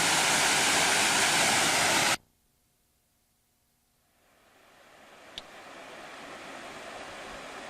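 Brownstone Falls on the Bad River, a waterfall roughly 30 feet tall, pours as a loud steady rush that cuts out abruptly, leaving near silence before a softer, more distant water hiss slowly returns.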